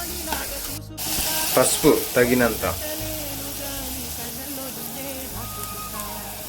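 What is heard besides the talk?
onions and green chilies frying in a pan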